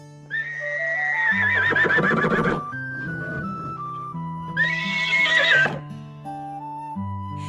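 A cartoon horse neighs and whinnies loudly twice in a farm setting, each call a long wavering tonal whinny, with short musical tones between and after them and no talking.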